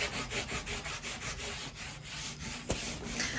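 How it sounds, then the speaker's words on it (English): A rag rubs DIY stain into porous wood in quick, repeated back-and-forth strokes, a soft, steady scuffing rhythm heard up close with one brief knock near the end. "I'm just using a little rag just to put this stain on"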